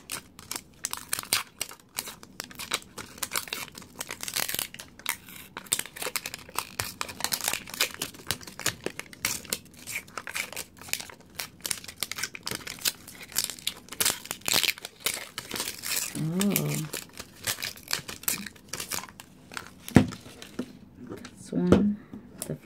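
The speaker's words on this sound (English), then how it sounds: "So I'm gonna get started in unwrapping these." Disney Mini Brands surprise capsule wrappers are unwrapped up close, with constant crinkling and tearing plastic in quick irregular bursts, and a voice speaks briefly near the end.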